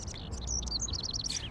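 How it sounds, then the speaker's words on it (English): A small bird chirps indoors in the video game Life Is Strange, a rapid run of high, bright tweets over a steady low background hum. "Can you help me get this bird out of here?"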